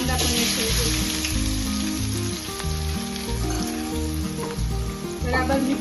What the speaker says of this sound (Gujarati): રાઈ ફૂટી જાય છે અને કાંદા પણ એડ કરીશું.